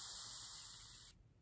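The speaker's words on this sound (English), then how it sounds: "I just have one pump, and it keeps spraying." A continuous-spray bottle releases a fine mist of water in one long, even hiss from close by. The hiss cuts off abruptly near the end and leaves a faint background hum.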